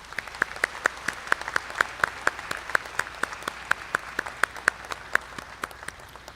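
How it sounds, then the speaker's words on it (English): Sparse applause for honor graduates at the 2023 South Columbus High School graduation ceremony: a few nearby hands clapping in a steady, fairly even rhythm over a quiet hall. "Let's give our honor graduates a round of applause."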